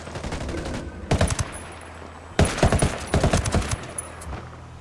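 Automatic gunfire in the shooter Ghost Recon Wildlands comes in two loud, close clusters of rapid cracking shots, separated by brief lulls filled with low ambient rumble and no talk.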